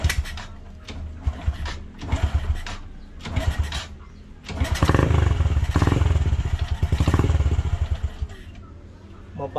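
A Honda Wave 100 motorcycle, its carburetor freshly cleaned, sputters through a few uneven revs before settling into a loud, close, rhythmic idle chug, with someone talking nearby.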